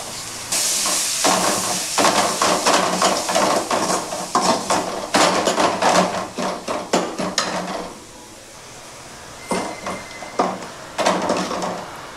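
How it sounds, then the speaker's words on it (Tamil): Chopped tomatoes sautéing with turmeric in a pan for brinjal kara kuzhambu: rhythmic spatula scrapes and clanks over a soft sizzle, easing into a quieter stretch before the stirring starts again. "அரிஞ்சு வச்சுருக்க தக்காளியை கூட்டிக்கலாம்"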